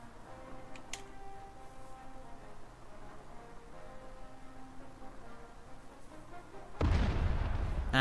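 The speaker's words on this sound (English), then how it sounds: "IS-2 fires out a shot, non-penning the T-44." An IS-2 tank cannon fires a single shot in the Girls und Panzer game, a loud, sudden boom near the end that rolls on into a rumbling tail after a long stretch of quiet engine drone.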